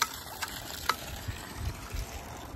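Water gushes and splashes from a pipe as an old pitcher pump is worked, with a few sharp metallic clanks over a steady watery wash.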